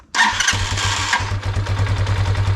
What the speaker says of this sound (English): choke on, fuel on reserve, kill switch off, as in the bike is set to run